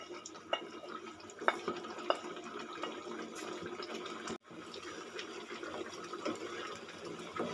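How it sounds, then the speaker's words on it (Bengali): Lemon chicken simmering in a pan on the stove, a soft continuous bubbling with a few faint clinks and taps, low and close. "এই যে দেখুন ফুটে গেছে"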